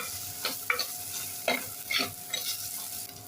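Chopped coriander and green chillies sautéing in a pan for prawn khichdi, with soft sizzling throughout and several sharp stirring scrapes spaced about half a second apart, close and clear with no talk.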